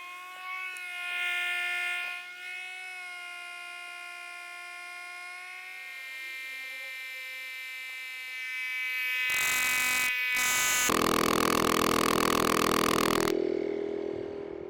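OutdoorMaster Dolphin electric pump inflating a SUP paddleboard, a steady high whining motor hum with strong tonal harmonics, shifting pitch midway, then a louder harsh roaring burst with a short break before cutting off.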